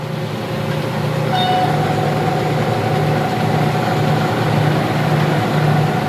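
A rescued metal lathe running at 365 RPM, a steady, loud mechanical hum with a low droning tone and faint whine, continuous and unchanging throughout, with no talking.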